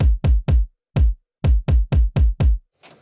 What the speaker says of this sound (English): And that's the kick drum sound.